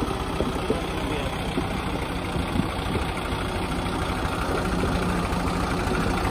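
Kubota and New Holland tractor engines run steadily together at a low, even rumble, a continuous mid-to-low drone with no pauses.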